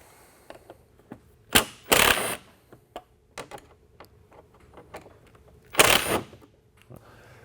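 Bolts being removed from a Polaris RZR XP during an Aerocharger turbo install, heard as sharp clicks and ratchet-like ticks scattered through the clip, with two louder bursts of tool noise close by.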